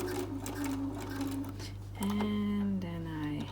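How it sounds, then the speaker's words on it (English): Sewing machine stitching elastic onto a fabric face mask, a steady close whirring hum with a pause and a change in pitch partway, running alone without talk. "I am sewing"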